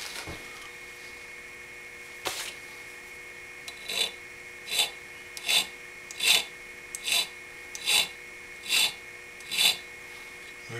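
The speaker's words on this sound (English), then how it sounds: "so I'm doing a little bit more filing." A hand file rasps on the pivot pin of a straight razor, giving a single early stroke and then a regular run of about eight short strokes in close, quiet succession.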